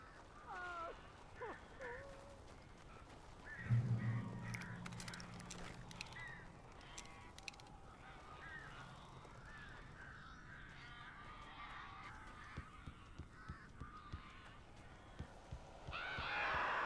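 Harsh crow caws ring out in the Alan Wake game, several calls spread over a dull ambient drone with a low thump partway through and brief voice-like sounds mixed in.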